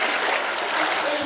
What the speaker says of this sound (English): There is another waterfall